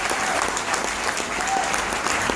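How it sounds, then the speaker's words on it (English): An audience at a leadership talk breaks into brief, dense clapping, a steady burst of many hands throughout. "And yeah, clap."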